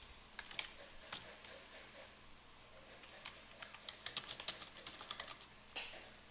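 Code is typed on a computer keyboard for a Godot Engine game programming lesson, with quiet, irregular key clicks and occasional louder taps in a faint, steady run.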